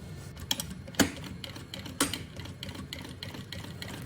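Sewing machine stitching fabric for a bunny-shaped backpack: a quick, uneven clatter of needle strokes close by, with a couple of louder knocks.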